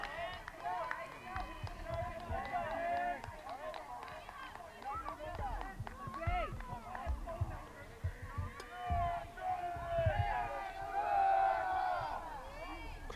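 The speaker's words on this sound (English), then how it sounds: "Crowd coming alive" Spectators at a boys varsity baseball championship game cheer and shout in a busy, rising crowd noise, with a commentator talking over it.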